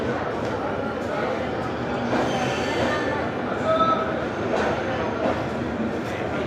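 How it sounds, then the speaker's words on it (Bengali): The Mithila Express rumbles into a station in Bihar, a steady loud rolling din with faint squeals and clatter that lasts throughout. "এইবার আমাদের ট্রেন ঢুকে পড়েছে"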